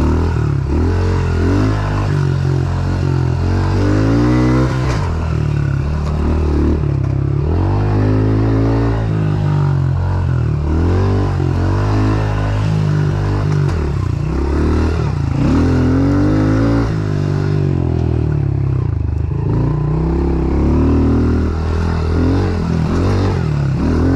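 A Honda CRF110 pit bike buzzes around a dirt track with a rough, droning single-cylinder note. It rises and falls as the throttle opens and closes, loud and close throughout.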